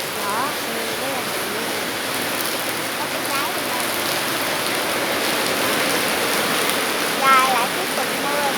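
Rain pours outdoors over a corn plot in wet, windy weather, a dense, even, fairly loud hiss with a few faint sounds beneath it and no clear speech.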